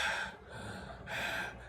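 A man imitates heavy panting with his voice, two loud breathy gasping bursts close to the mic, with a brief dip between them.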